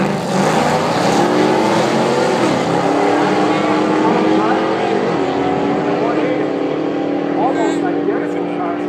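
A bolt-on Trans Am with exhaust and intake mods roars down a drag strip at full throttle, loud and continuous as the engine note climbs through the run, with no one talking.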